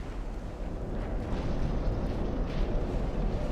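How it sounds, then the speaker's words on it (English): Torpedo striking a warship in the Ultimate Admiral: Dreadnoughts naval video game, a deep rumbling explosion with a sustained low roar, moderately quiet and distant-sounding, no voices. "Oh, the torpedo hit."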